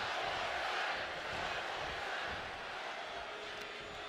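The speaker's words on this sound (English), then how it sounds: "This crowd is going bananas." A dense, steady roar of a video game arena crowd cheering during a WWE 2K25 wrestling match, a continuous wash of noise with no clear breaks.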